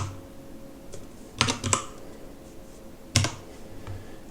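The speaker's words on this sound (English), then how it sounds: "so we'll just go ahead and type it in" Typing on a computer keyboard: a few quiet scattered key taps, then two short bursts of rapid clicking keystrokes, with near silence in between and no talking.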